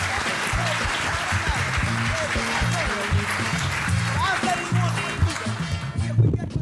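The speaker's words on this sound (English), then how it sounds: "big round of applause for Carmen and Karina" Applause rises from an audience at a panel event as panelists are welcomed, a busy wash of clapping mixed with low rumbling thumps and voices murmuring underneath, continuing steadily throughout.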